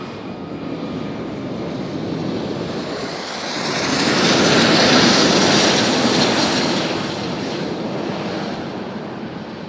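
A Southwest airliner on its takeoff roll from the runway at Nashville International Airport, a loud sustained jet-engine roar swelling to a peak mid-way and then fading slowly as it climbs away.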